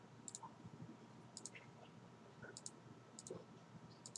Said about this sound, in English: and click enter